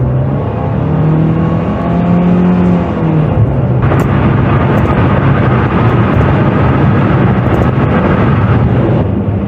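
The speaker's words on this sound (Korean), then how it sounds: "스포츠 모드에다 놓고 가속을 해보겠습니다" Inside a 2019 Hyundai Avante with a 1.6 engine accelerating in sport mode, the engine note rises steadily through the gears with a brief shift dip, over constant loud road and wind roar, no talking.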